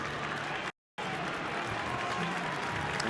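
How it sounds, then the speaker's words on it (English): A Newcastle crowd at a rugby league match applauds and cheers in a steady, distant wash of clapping and voices, broken by a short dropout near the start. "There's some encouragement for Sione Matautia from the Newcastle crowd"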